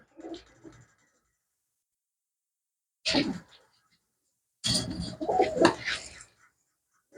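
Pigeons with fanned tail feathers from a pure bloodline coo close by in three short bursts separated by silent pauses. The last burst is the longest and fullest.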